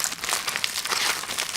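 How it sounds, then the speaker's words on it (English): Aluminum foil crinkles and crumples continuously as it is wrapped around a plastic bag holding a small transmitter, a close, busy rustling with no pauses. "I'm gonna put this thing in a plastic bag and then wrap it in grounded"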